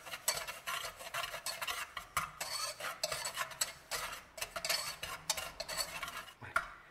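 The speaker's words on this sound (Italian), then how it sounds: "Iniziamo a mescolare le polveri." Dry sugar and cornstarch for biancomangiare being stirred in a bowl, a steady run of close scraping and rustling strokes with a few brief clinks of utensil on the bowl, no talk.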